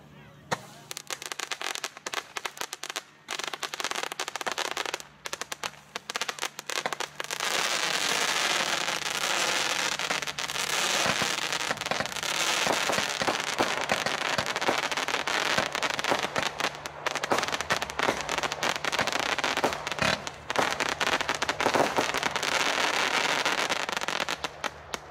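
A Lucifer 30-shot firework battery, 20 mm calibre with 174 grams of net explosive, fires a long sustained barrage of rapid popping bursts and crackles outdoors at a New Year's fireworks preview, with a few isolated bangs opening the sequence.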